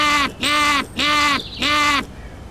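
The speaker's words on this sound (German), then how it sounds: "Wie macht zum Beispiel die Rabenkrähe, lateinisch Corvus Corone Corone?" A carrion crow calls four times in an even rhythm. The harsh, loud caws sound close and each one is drawn out, with short gaps between them.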